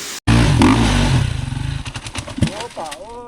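A motorbike engine on a mountain fires up abruptly after a brief gap, idling with a loud, lumpy pulsing rhythm before settling and fading, with speaking voices joining toward the end.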